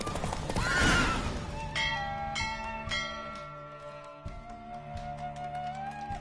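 A horse in a Witcher 3 race lets out a loud, close whinny at the start, then bell-like tones and other game sounds ring on behind it.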